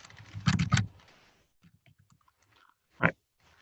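Typing on a computer keyboard while signing in to a Google account: a dense burst of close key clatter, then a few sparse soft taps and one sharp isolated keystroke, with no talking.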